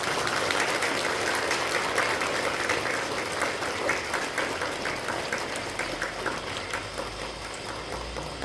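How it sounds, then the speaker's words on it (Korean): A large church congregation applauds to welcome the pastor before his sermon, a long, even roar of many clapping hands heard from a distance in a big hall, fading slightly toward the end. "우리 나오실 때 격려하는 마음으로 박수로 환영하겠습니다."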